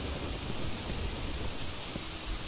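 Steady rain pours down in a constant hiss in the King Kong video game, dense and even, with no voices.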